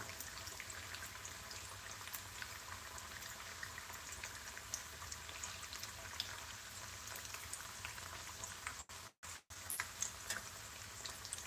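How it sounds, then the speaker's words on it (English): Potato and pork chorizo tacos fry quietly in a pan, giving a faint, even crackling hiss with scattered tiny pops and one brief dropout near the end, heard alone without talk. "Let it fry up on the other side"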